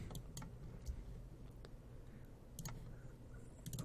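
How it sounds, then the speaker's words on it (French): Computer keyboard keys pressed while nudging objects in a 3D design program: sparse, light clicks, some in quick pairs, faint and close over a low steady room hum. "avec les touches du clavier."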